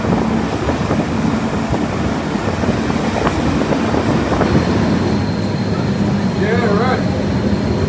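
Steam train running through the Blue Mountains near Sydney, a steady loud rumble and rattle of rolling carriages heard from on board, with faint clanks and a brief squeal near the end.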